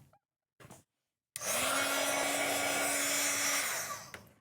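A handheld dryer blows over a painted art journal page with a loud, steady whoosh and hum for a couple of seconds after two brief bursts, then cuts off.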